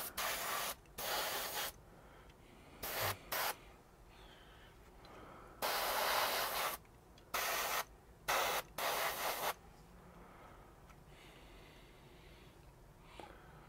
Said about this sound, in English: It atomizes the paint pigment so well that it distributes it efficiently